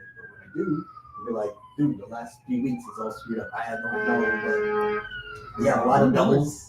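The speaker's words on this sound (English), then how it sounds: "That's the ambulance" An ambulance siren wails in the distance, a long falling then rising tone sweeping under steady conversational talk.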